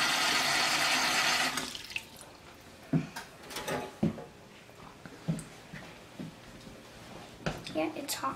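Hot water gushes steadily into a large canning pot holding jars of carrots, then fades into scattered splashes and knocks as the pouring stops, with a person talking softly underneath.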